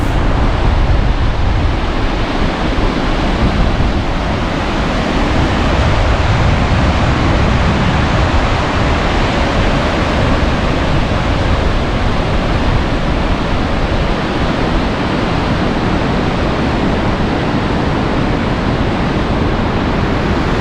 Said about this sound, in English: It's windy, it's noisy